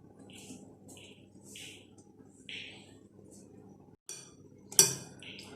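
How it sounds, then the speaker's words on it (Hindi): Marinated beef pieces being mixed in a pot make soft, intermittent scraping and clinking of a utensil against metal, with a sharper clank near the end, close and fairly quiet. "2 घंटे गुजरने के बाद आप इसको मिक्स करें तमाम बीफ की बोटियों को।"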